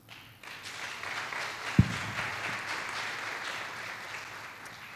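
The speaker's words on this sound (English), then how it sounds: "Let's give ourselves a big applause for this achievement." A seated audience at the opening session of a science forum breaks into sustained applause, a dense even wash of clapping that holds steady to the end, with one sharp knock near the start.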